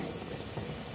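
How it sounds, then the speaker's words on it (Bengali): Undhiyu vada fritters fry in hot oil, a continuous close sizzling and crackling hiss that holds steady for a single second. "আমি ভেজে নেব।"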